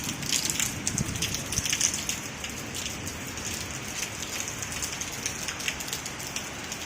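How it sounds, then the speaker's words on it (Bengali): Heavy rain falls steadily, a dense hiss of drops pattering on surfaces, slightly louder at first, with no talking. "এক্ষণে বৃষ্টি নামলো এই দেখো প্রচণ্ড কিন্তু মেঘ রয়েছে আকাশে এই দেখো বৃষ্টি নেমেছে"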